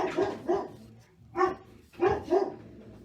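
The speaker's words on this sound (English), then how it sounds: "you're gonna have to listen to her bark for a couple minutes" A dog barks close by in a series of sharp, deep barks in two-bark clusters with short pauses between them, with no talking.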